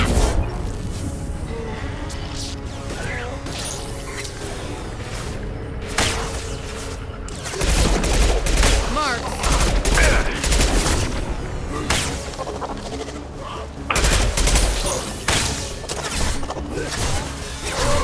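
Heavy gunfire in the video game Mass Effect 2, with dense bursts of shots and crashing impacts layered over a constant battle din. The firing grows louder and more intense partway through, with several strong loud stretches.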